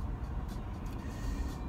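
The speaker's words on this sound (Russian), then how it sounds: "сегодня попали опять на небольшую пробочку, да, едем мы с вами у нас на работу" A car crawls through a small traffic jam on the way to work, giving a low, steady engine and road rumble that is faint and muffled from inside the vehicle, with no other distinct sounds.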